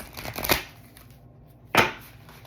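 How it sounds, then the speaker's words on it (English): A tarot card deck is shuffled, giving two quick riffling bursts close by, the first at the start and the second near the end, with a quiet pause between. "I'm going to shuffle and I'm going to cut the deck."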